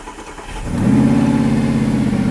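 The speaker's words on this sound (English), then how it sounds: "The engine, as you can hear, runs sweet." A rebuilt secondhand car engine catches and settles into a close, even idle with a steady low hum.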